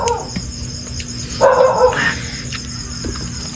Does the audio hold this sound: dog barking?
yes